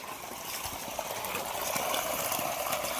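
Water rushing steadily from a 900 W solar pump through a 2.5-inch hose out of an 80-foot well, a continuous broadband gush that grows slightly louder partway through.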